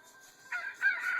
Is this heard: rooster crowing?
yes